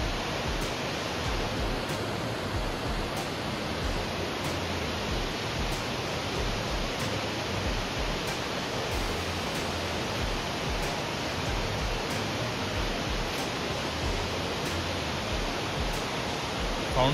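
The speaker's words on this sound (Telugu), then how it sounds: "సౌండ్ వస్తుంది చూడండి, వాటర్ సౌండ్." Rushing water from Jog Falls in Karnataka, a steady broadband roar of falling water with no breaks, continuous and fairly loud throughout, heard from a viewpoint in the dry summer season when the flow is reduced.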